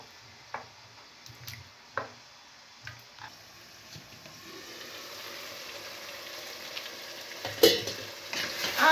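Onions, bell peppers and tomatoes frying for a veal goulash are stirred in a pan, giving several soft scraping stirs over a faint sizzle that grows louder and busier toward the end.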